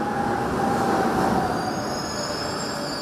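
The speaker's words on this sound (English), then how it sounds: "But to get somewhere faster, they can use the Beijing Subway." A Beijing Subway metro train runs on its rails with a loud, steady roar and high wheel squeal, close and continuous, with no voices.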